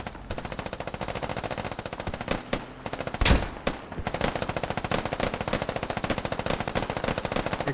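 Sustained automatic gunfire in a team-based video game battle, rapid continuous bursts close up with a brief pause and a heavier blast in the middle before the rattling fire resumes steadily.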